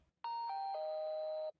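A doorbell in the game Mouthwashing rings once, a clean two-tone ding-dong with a long sustained second note, clear and alone against near silence.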